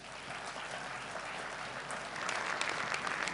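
An audience applauding at an award ceremony, a steady wash of clapping from a seated crowd that swells slightly toward the end, heard at a moderate distance.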